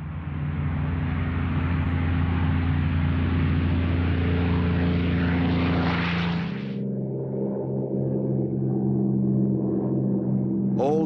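A Spitfire fighter's propeller engine drones loud and steady, a deep layered roar that drops to a lower, throatier hum partway through as if passing by, with no voices.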